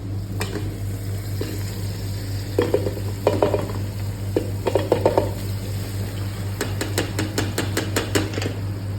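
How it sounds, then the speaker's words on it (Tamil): Meat and macaroni being stirred in a pan, with clusters of scraping and clacking spoon strokes over a steady sizzle and low hum, close by. "கொஞ்சம் அடி பிடிக்காமல் கிண்டி விடுவோம்."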